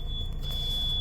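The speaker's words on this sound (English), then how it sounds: "we've got a warning there just letting us know that we've got a sliding door open and the roof is up" Warning chime inside a Ford Nugget Plus camper van, sounding because the sliding door is open and the roof is raised. It is a steady, high electronic tone held continuously over a low engine-like rumble, with nobody talking.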